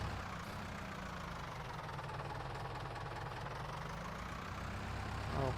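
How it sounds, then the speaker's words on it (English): A tractor engine in Farming Simulator 19 runs at a steady, low, rumbling drone throughout, heavy and unchanging, with a slight swell at the very end and no voices. "Well, the weight in this thing really is pushing the tractor forward."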